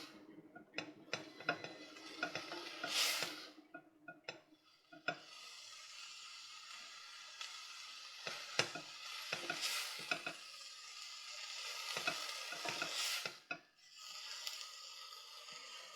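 Nettles mixed as they wilt in a pot, a close series of quick scraping and ticking stirs with bursts of hissing, some pauses between strokes.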